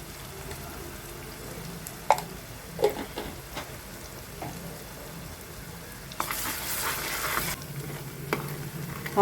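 Ginger garlic paste and turmeric fry in a pan with a soft, low sizzle, broken by a few clinks and scrapes of stirring and a brief louder hiss near the end.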